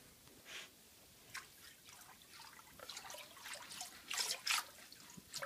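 Hydroponic nutrient water is stirred in a container, making faint, irregular sloshing, trickles and small splashes that come close up against a quiet background.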